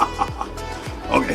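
A chicken clucks close by in a short burst of a few quick clucks, loud and clear with no talking.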